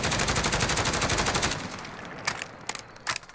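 Rapid automatic fire from a SIG556 rifle in Call of Duty Modern Warfare, a loud continuous burst for about a second and a half, then several shorter separate shot bursts trailing off.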